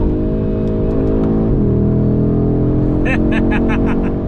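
A 2022 Audi RS3 on the move: a loud, close engine drone that drops as it shifts, then climbs steadily under acceleration, with a few short chirps near the end.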